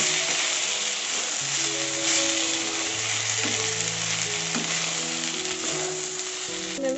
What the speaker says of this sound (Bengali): এবার এখানে আমি ভিজিয়ে রাখা সাবুটা দিয়ে দিচ্ছি সাবুটাও খুব ভালোভাবে মিক্স করে নেব